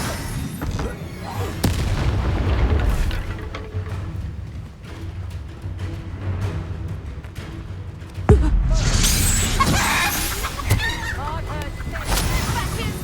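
Spell combat in the video game Hogwarts Legacy, with an Incendio fire spell among booming blasts and whooshing magical effects over a steady game score, a loud burst near the middle followed by crackling bright flares.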